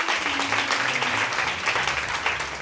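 An audience at an event gives loud, dense applause, a steady rapid clatter of many hands throughout.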